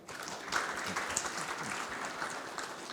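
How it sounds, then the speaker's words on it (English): Applause for artisans and craftsmen at a handicrafts technology event, a soft, fairly distant crowd clapping at an even level for a few seconds, with faint murmurs underneath. "I think all our artisans and craftsmen deserve a huge applause for that."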